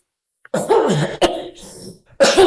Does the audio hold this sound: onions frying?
no